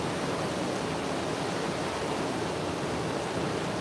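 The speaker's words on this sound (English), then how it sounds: "That's how loud these waves are" Loud waves breaking on a lake shore at a catfishing spot in Kansas, a constant roaring wash of surf that fills the whole stretch without a break.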